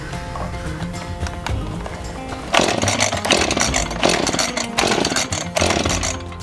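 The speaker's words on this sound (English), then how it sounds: "this chainsaw just runs along this guide, and it'll make that cut real nice and smooth" A chainsaw running along a cutting guide to slice a log for a log home build revs loudly and cuts with a harsh, buzzing roar that surges in repeated pulses, following a rougher idling stretch.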